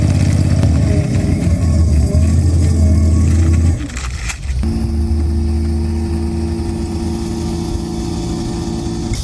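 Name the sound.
lawnmower engine running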